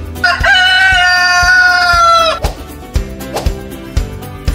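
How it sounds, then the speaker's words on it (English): A rooster crows once, loud and close, a long cock-a-doodle-doo, then a few soft knocks in a rhythmic backing track. "Cockerel."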